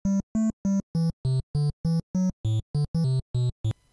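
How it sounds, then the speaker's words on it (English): Low triangle-wave bass notes from an NES video game console sound chip, played as a steady run of about fourteen short, evenly spaced staccato tones that are clear and close, with no talking. "The third voice can only produce a triangle and is typically used for the low bass notes."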